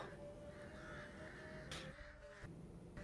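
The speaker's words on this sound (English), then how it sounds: "Wait, are those mini crows flying in and out of her eyes?" Crows caw faintly and steadily through a muffled game soundscape in The Witcher, with small crows seemingly darting around a figure; the calls blend into a continuous low background bed rather than standing out as distinct loud caws.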